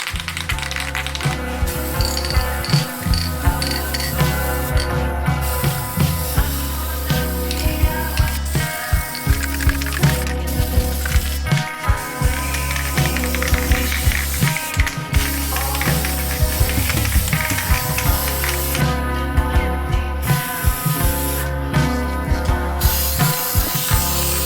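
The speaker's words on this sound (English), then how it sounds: "So now it's just time to spray the corrosion inhibitor on everything." Aerosol can of corrosion inhibitor sprayed onto exposed bare metal of a Nissan 240SX during an electric conversion, bursts of close hissing spray broken by brief pauses and clicks of handling, steady and loud without talk.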